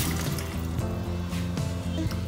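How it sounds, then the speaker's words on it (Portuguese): Water poured steadily into a bowl of grated green papaya, a continuous liquid rush filling the whole moment with a low tonal hum running beneath it. "Coloque em uma bacia e cubra com bastante água."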